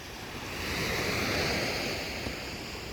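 Pacific Ocean waves wash against a seawall jetty at the Chahue Marina entrance in Chahue Bay, Oaxaca, Mexico, in the early morning, making a steady loud rushing surf with some wind noise and no speech.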